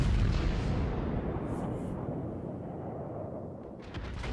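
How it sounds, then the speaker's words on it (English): Battleship naval guns fire in the World of Warships game, a heavy, rumbling low boom that fills the start and then slowly fades, with faint metallic sounds above it. "They're firing some AP at me"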